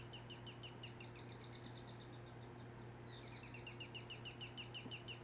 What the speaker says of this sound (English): I think birds.